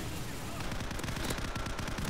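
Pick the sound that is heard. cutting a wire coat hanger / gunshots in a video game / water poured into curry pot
gunshots in a video game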